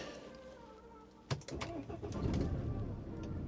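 A BMW engine cranks and catches after running out of fuel, a sharp start followed by a rough, lumpy idle, close and moderately loud with no talking.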